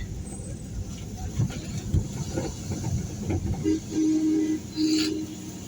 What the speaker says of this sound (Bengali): এই দিক দিয়ে মনে হয় ইন্ডিয়ান ট্রেনটা